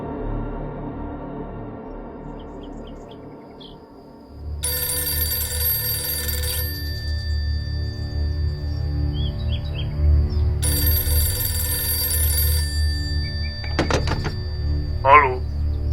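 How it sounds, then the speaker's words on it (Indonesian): An old telephone rings in two loud, bright bursts of several seconds each, separated by a pause, over a low rumbling background, with a few bird-like chirps near the end. "Brigjen Amir Mahmud selaku Panglima Kodam Jaya mendapat telepon dari ajudan senior Presiden"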